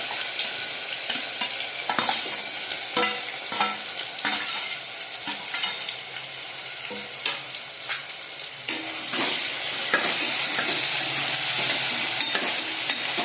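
Tomato and cauliflower pieces are stirred and mixed in a frying pan, giving a close, steady sizzle broken by frequent scraping spoon strokes that grow busier toward the end.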